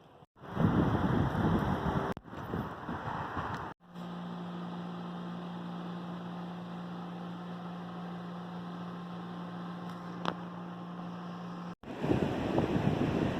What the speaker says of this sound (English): it's really windy here in Sioux Falls